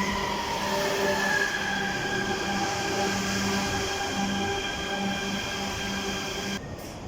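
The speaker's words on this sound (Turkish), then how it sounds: "Kirazlı Kayaşehir Merkez metrosu perona yanaşıyor." An Istanbul metro train on the Kirazlı–Kayaşehir Merkez line rumbles and hums steadily as it pulls into a platform, with faint squealing tones from the wheels, ending abruptly.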